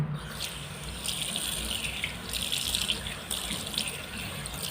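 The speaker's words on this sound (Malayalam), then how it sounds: "ടാപ്പിൽ വെള്ളം ഒഴിച്ചിട്ട് കഴുകാൻ പോവുകയാണേ" Water from a kitchen tap runs steadily to rinse a freshly cleaned cooking vessel, a close, even splashing rush with no break.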